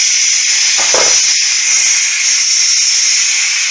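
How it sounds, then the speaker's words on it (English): Steam vents from the pressure release valve of a Ninja Foodi pressure cooker after cooking chicken thighs with carrots and rice pilaf, a loud steady close hiss running without a break. "quick release the pressure by moving the pressure release valve to the vent position"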